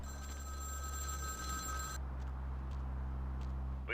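A payphone in the Vampire: The Masquerade – Bloodlines video game rings with an electronic trilling bell for about two seconds, then cuts off, leaving a low steady hum and a faint blip at the end.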